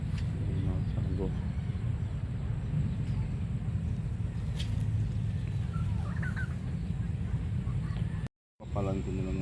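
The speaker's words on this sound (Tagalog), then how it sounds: "Mga pabo." Turkeys gobble and cluck on a farm among other fowl. The calls come in repeated bursts over a constant low rumble, and people talk nearby.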